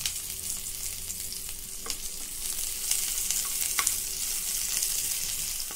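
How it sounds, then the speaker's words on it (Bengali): Onion frying with cumin seeds in a small amount of oil while cooking a light rohu fish curry: a soft, steady sizzle with occasional sharp crackles and pops, fairly close and faint, with no talking. "জিরে ফোড়ন দিলাম আর পেঁয়াজ দিচ্ছি অল্প, একদম অল্প"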